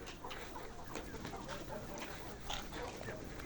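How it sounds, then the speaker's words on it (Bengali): Kazi Hylan layer hens in a poultry batch cluck in soft, overlapping bursts, a quiet busy flock sound with a faint voice underneath. "এটা জাত হচ্ছে কাজী হাইলান কোম্পানির এই জাতের লেয়ার মুরগি।"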